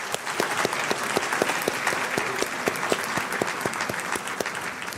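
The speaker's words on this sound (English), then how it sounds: "Please let's all show our appreciation one more time with a warm round of applause for Mr." A graduation audience at West Georgia Technical College's Waco campus gives steady, warm applause, the many hands blending into a dense, even roar that holds at a constant level, with a few sharp claps standing out close by.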